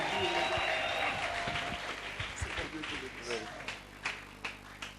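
A church audience claps and cheers for the Lord as Reverend Roland Dalo steps up. The applause is loud at first, then thins into scattered individual claps, with voices mixed in.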